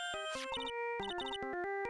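Electronic phone ringtone playing the Steel Samurai theme from the Ace Attorney video game, a bright melodic run of synth tones in quick stepped notes with short pauses, close and clear with no talk over it.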